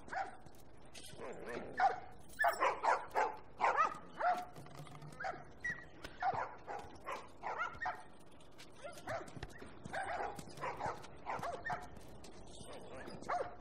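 Dogs in The Last of Us Remastered video game bark and yip in short repeated bursts throughout, with some whimpering between, fairly close and steady.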